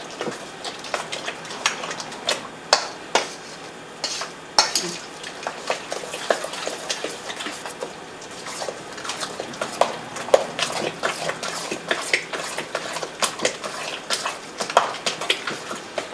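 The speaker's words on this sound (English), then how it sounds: "a big spoon, stir it all together" A big spoon stirs raw vegan chili of chopped vegetables and sauce in a bowl, giving continuous wet squelching and scraping with frequent sharp clinks of the spoon against the bowl, close and steady, with no one speaking.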